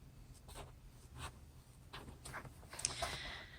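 Soft foam for a puppet is cut out, making faint, short scraping and snipping strokes in an irregular rhythm against a quiet background, with no one speaking.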